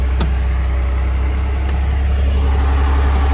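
An old scrap tractor drives along with its engine droning loudly and steadily, a constant low rumble with faint clicks, recorded close by from the step of the machine.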